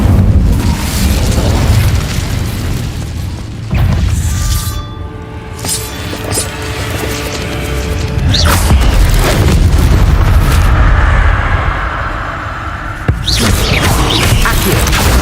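Incendio fire spells blast repeatedly in Hogwarts Legacy, loud booming bursts with crackling flame and layered game effects filling the whole stretch, with a brief tonal shimmer in the middle.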